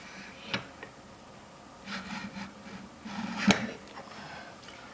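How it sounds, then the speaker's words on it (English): Scribe drawn across the bottom of a steel lathe quick-change tool holder, several faint, short scratching strokes in a quiet room, with one sharper tick near the end. "we're going to scribe a line right on the bottom of here"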